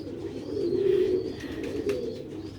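Rooftop pigeons in Sialkot coo close and fairly loud, one long throaty rolling call swelling and fading, followed by softer cooing and light chirps in the background.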